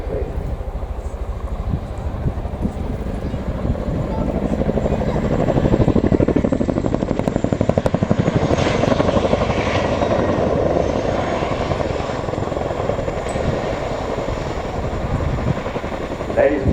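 A Boeing CH-47 Chinook twin-rotor helicopter performs a nose-down quick stop at an air show, its heavy rotor thump and engine roar swelling loudly midway, then easing to a steady drone.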